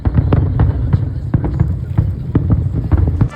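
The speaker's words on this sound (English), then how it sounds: "Alright, now we got the fireworks." Repeated fireworks bursts at a Popeye theme park on Malta, a steady run of sharp cracks and thuds at a fast, uneven rhythm, fairly close and loud over a constant low rumble, with no voices.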